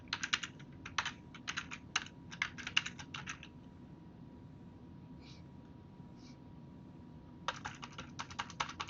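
Login details typed on a computer keyboard while setting up an Ubuntu server, with two bursts of rapid close key clicks separated by a few seconds of quiet room hum.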